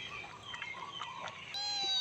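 Small motherless kittens at a temple in Chae Hom, Lampang, mew close by in a quick string of thin, high cries, ending in one longer, steadier meow.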